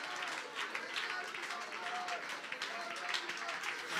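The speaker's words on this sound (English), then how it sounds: "Somebody clap your hands." Church congregation clapping their hands in rhythm during a lively worship service, brisk claps mixed with crowd noise and a loud voice talking over them.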